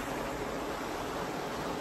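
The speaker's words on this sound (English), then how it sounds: "I like the sound of that waterfall." Steady broadband rush of a waterfall, continuous and fairly loud, with no breaks or other sounds over it.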